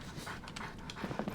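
A little samurai dog in Genshin Impact pants softly and rapidly, a steady breathy rhythm heard close and alone.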